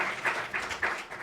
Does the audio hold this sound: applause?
yes